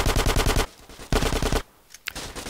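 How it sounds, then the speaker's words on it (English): Rapid automatic gunfire in GTA San Andreas during a shootout at a house in the hills, loud bursts of machine-gun fire repeating in quick succession, a brief pause, then more shots. "Who's shooting me now?"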